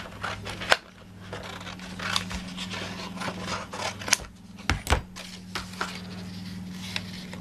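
Scissors snip through fabric for a sewn travel case, a series of irregular, close crisp cuts and rustles with short pauses between strokes.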